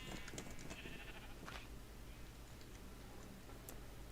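Sheep bleat in Minecraft a few times over a steady low background hum, with short ticking game sounds and no talking.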